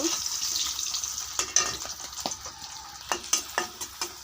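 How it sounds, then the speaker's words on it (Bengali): Onions and red chilies frying in a pan, with a soft sizzle under repeated stirring clicks and scrapes that come in an uneven rhythm, close by and fairly quiet. "পেঁয়াজগুলো লাল লাল করে ভেজে নেব গাইস। লাল মরিচ আর পেঁয়াজ দিয়ে দিছি।"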